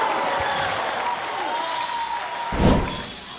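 Applause and cheering from a small tennis crowd of a few hundred on a center court rise after a rally, with a sharp thud and swell of noise near the end.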